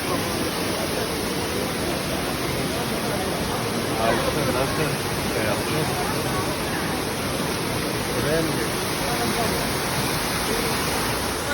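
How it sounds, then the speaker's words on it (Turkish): Düden Waterfall in Antalya roaring as a dense, steady rush of falling water, loud and close throughout, with a voice speaking faintly beneath the constant noise. "itibariyle Düden Şelalesi'ndeyim arkadaşlar"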